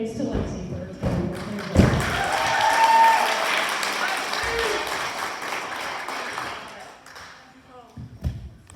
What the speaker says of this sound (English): So a round of applause and many thanks to Lexi for her time.